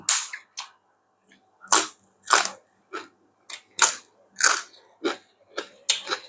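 Crunchy pork rind is chewed close to the mic, sharp crackling bites arriving in irregular bursts with short quiet gaps between them.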